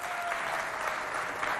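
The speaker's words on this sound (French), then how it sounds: "Et ça s'applaudit, hein, ça." A crowd claps for the two teams at a youth holiday event, a short burst of steady, dense applause heard at moderate level.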